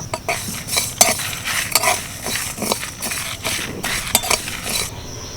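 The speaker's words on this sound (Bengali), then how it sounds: "এগুলোকে শুকনো করায় ভালো করে ভেজে গুঁড়ো করে নেব" Whole spices (white cumin, coriander seeds, fenugreek and fennel) are dry-roasted in a wok, giving irregular clinks and scrapes of stirring against the metal that go on steadily throughout at moderate loudness.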